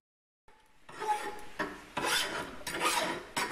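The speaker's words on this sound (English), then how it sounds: "So this is the filing that's going to make the final shape." A hand file rasps across a spring steel spud being shaped, making about five rough scraping strokes in an uneven rhythm, close and clear with no talking.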